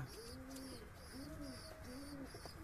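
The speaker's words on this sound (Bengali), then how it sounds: "অনেক পুরনো পায়রা এটা।" Soft, low pigeon coos from an old Madras pigeon repeat in a steady rhythm, three phrases in a row, heard faintly against a quiet background with some high chirps.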